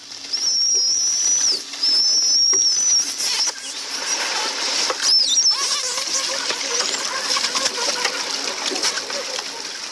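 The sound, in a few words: male dolphins fighting underwater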